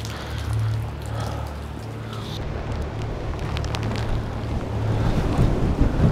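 Strong wind blows across an Arctic hilltop in the polar night, roaring and buffeting the microphone in a steady low rumble that swells louder toward the end, with no voices.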